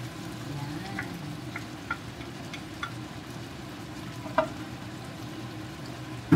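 Scrambled eggs with bitter gourd and sardines frying in a pan, a steady soft sizzle with occasional light ticks and utensil clinks, ending in a sharper knock.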